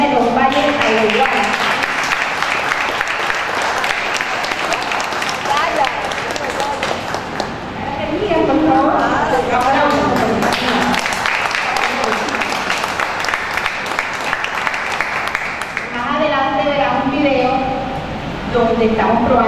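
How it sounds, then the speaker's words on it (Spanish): An audience at a gathering applauds a peasant woman from a rural commune, with sustained, dense clapping and crowd noise filling most of the stretch, dipping briefly and then swelling again to a steady, loud roar. "Yo pido un gran aplauso para esta campesina"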